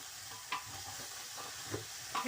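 Grated carrots being lightly sautéed in a pan before freezing, a soft, quiet sizzle with a few faint stirring scrapes.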